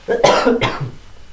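Two harsh coughs in quick succession, close and fairly loud, followed by a brief throaty trailing breath.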